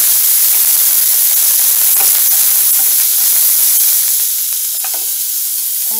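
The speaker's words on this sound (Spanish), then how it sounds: "aquí vamos a dorar lo que es la cebolla y el ajo" Onion and garlic browning in oil in a pan for chilaquiles give a loud, steady, hissing sizzle that eases slightly toward the end, with no voices.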